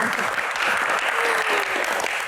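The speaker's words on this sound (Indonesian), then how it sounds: "Tepuk tangan dong." Audience applause during a live Q&A show, a burst of continuous clapping from a crowd, fairly loud and even, with a faint tone gliding briefly underneath.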